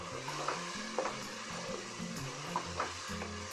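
Whole cumin, black pepper and ajwain roast in a pan for aloo moongre, giving a steady low sizzle under repeated scraping stirs, close and moderately loud with no talk.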